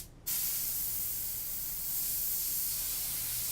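An airbrush sprays paint in a steady, close hiss that starts abruptly and holds constant without pause.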